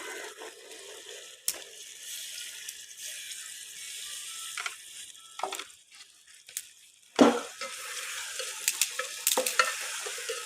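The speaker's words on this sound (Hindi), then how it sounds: "तकरीबन 2-4 मिनट के लिए चनों को भूनते हुए पका लेंगे।" Fresh green chickpeas being stirred and fried in cooked-down masala in a pan, with a soft steady sizzle broken by scraping spoon strokes and occasional sharper clatters against the pot.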